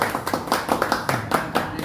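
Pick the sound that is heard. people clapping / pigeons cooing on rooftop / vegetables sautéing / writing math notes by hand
people clapping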